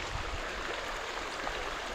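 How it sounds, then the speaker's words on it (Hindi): Small roadside waterfall stream by a cave site in Gujarat, its steady broadband rush of flowing water continuous and moderately close, with no voices over it. "यहाँ पर एक छोटा सा झरना गुजरता है"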